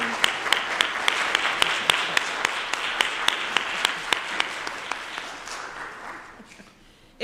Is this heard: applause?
yes